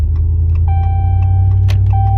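A truck drives along with a low, steady engine rumble filling the cab, while a high seatbelt warning chime sounds twice and faint interior clicks come through.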